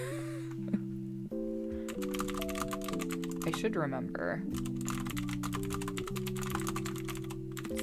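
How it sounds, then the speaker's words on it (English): Loud, rapid keyboard typing with sharp clacky keystrokes runs under steady background music, with a brief spoken phrase near the start. "Sorry for my super loud keyboard."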